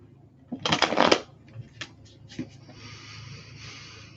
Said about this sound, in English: Right, one more shuffle.